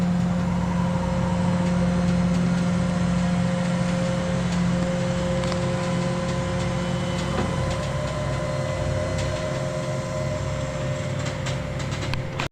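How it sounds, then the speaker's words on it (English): A backpack leaf blower runs on the roof of a house torn up by a fallen tree, its engine drone loud, close and steady for the whole stretch with a low humming tone. "I need a backpack blower up here. Let's blow this off."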